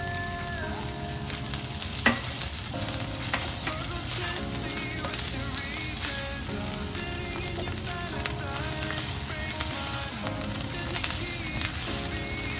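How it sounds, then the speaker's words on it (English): Onions, shallots and mushrooms sauté in the pan used to brown Salisbury steak, giving a dense, continuous close sizzle with faint stirring and no talk. "we're gonna saute these onions, shallots, and mushrooms"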